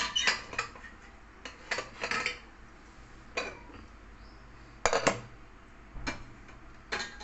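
Metal dishes and utensils clatter in a kitchen as cooked dal is taken out of a cooled pressure cooker, with irregular bursts of clinks and knocks separated by brief quiet gaps.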